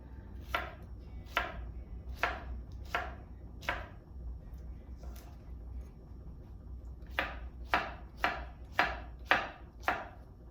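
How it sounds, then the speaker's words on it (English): Knife slicing washed okra on a cutting board, crisp rhythmic cuts in two bursts, first four spaced strokes, then a pause, then a faster run of six close, clear chops over a low background hum. "now I'm just going to cut off the ends and then just slice them"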